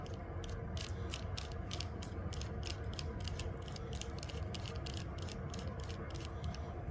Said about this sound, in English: Riv nut tool, we spread these arms apart.